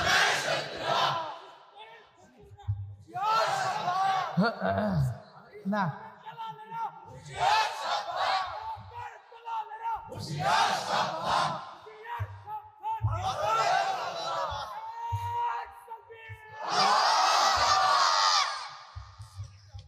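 A crowd at a religious sermon gathering shouts takbir in loud unison, answering a leader's calls in repeated bursts with short pauses between them, the massed voices reverberating through the space.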